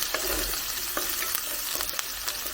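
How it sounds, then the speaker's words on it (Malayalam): Green chillies sautéing on a low flame, a dense continuous hiss and crackle of frying with faint stirring taps, close by and without talk. "ലോ ഫ്ലെയിമിലിട്ട് വഴറ്റിയെടുക്കണം."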